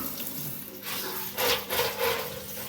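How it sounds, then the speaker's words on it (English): Tap water runs into a kitchen sink while mackerel is rinsed under it, a steady close splashing stream that swells and shifts as the fish moves through the flow. "I'm going to be washing on the top of the mackerel."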